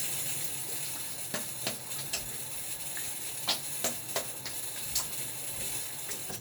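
A razor gets a quick rinse under running water during a shave, a soft wash of water broken by several sharp metallic clicks and taps.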